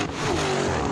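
A Ford Mustang Shelby GT500 revs hard in a brief, loud burst of steady engine roar during a drag race against a Camaro ZL1 and a Challenger Hellcat.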